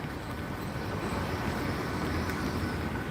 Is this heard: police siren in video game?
no